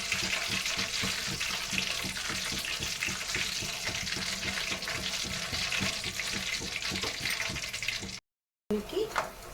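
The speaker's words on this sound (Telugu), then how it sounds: "కొంచెం పల్లీలు అది కూడా వేడి ఆయిల్ మీద ఇలా పెడితే అదే వేడిపోతాయి." Peanuts fry in hot oil with a dense, crackling sizzle that runs steadily for about eight seconds before cutting off, followed by a short burst of fainter sound.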